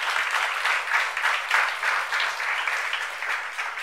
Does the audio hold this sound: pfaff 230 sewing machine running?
no